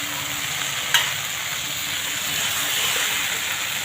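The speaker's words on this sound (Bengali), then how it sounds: "মশলা ভালো করে ভাজা হয়ে গেছে" Spices fry in a hot pan with a continuous close hiss and sizzle, and one brief sharp scrape of stirring cuts through early on.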